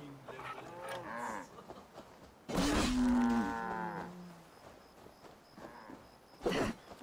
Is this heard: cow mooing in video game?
yes